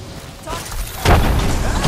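A grenade blast in the video game Apex Legends hits as one loud, sudden boom about halfway through, with a broad rumbling tail that lingers under game ambience.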